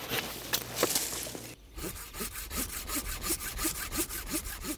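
A hand saw cuts through tree branches in steady back-and-forth strokes, close and rhythmic, after a brief stretch of rustling and handling.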